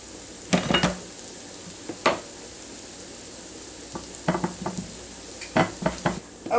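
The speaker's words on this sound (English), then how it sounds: "zucchini and squash mixture into my hot butter, and I've turned them over one time, and we will let them cook just for a few seconds." Zucchini and squash bites frying in hot butter in a pan, a steady low sizzle broken by several sharp clinks and scrapes of a utensil against the pan, close and without talk.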